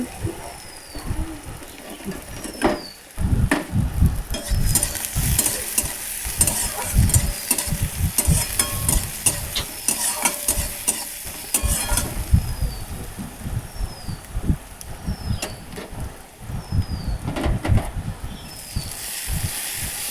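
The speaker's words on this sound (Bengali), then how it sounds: "পেঁয়াজ একটু নেড়ে আদা রসুন লঙ্কা গুঁড়ো হলুদ গুঁড়ো টমেটো সব দিয়ে ভালো করে কষাবো" Onion cooked with ginger, garlic, chili powder, turmeric and tomato, stirred steadily in a pan: a continuous sizzle and frying hiss with repeated scraping stirs, close and moderately loud, with no talk.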